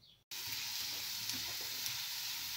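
Garlic frying in a pan gives a steady, close, even sizzle with a faint crackle that runs without a break after a short silent gap at the start.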